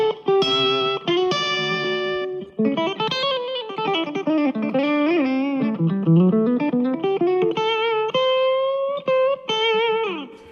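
A Carbon GH24 electric guitar through humbucker pickups plays a continuous, loud melodic run with sustained bent notes and effects-laden, slightly driven tone, no voices.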